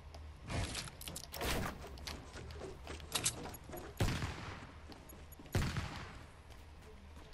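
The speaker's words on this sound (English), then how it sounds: "where are all these bullets coming from," Bursts of incoming gunfire in Fortnite, several sharp volleys scattered across the stretch with loud cracks near the start and two strong separate shots later, over a busy game backdrop.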